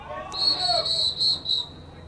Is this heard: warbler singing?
no